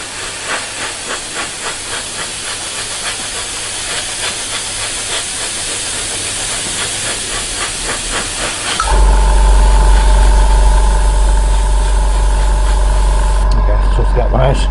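An airbrush blows a steady, close hiss of air to dry a model railway platform, first with faint rhythmic pulsing, then louder and smoother, with a low hum joining it partway through.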